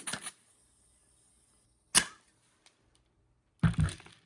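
Short hissing bursts of gas spurt into an airsoft MP9 drum magazine, three separate puffs spaced a couple of seconds apart, close and crisp against near silence.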